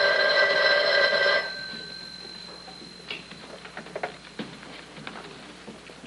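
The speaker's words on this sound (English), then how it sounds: "I asked her if I could use the phone." A telephone in a 1950s television crime drama gives a bright, loud bell ring lasting just over a second. Quieter clicks and rattles of the handset being handled and dialed follow, with no voices.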